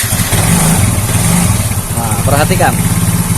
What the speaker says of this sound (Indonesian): Lalu kalau semakin turun dia akan mati motor. Sulit untuk digas.